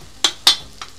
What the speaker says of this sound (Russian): томатной пасты высыпаем и немножко ее обжарим